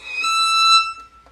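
One bowed violin note stopped with the fourth finger, bright and steady, sustained close up for about a second before it fades, alone with no talk.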